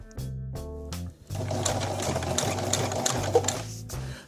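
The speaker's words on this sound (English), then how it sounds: "Go forward like so, a little back stitching, forward again" Sewing machine stitching the hem of a knit prom dress with a small universal needle, running in short bursts, then a longer steady whir with brief back-stitching pauses, close and clear.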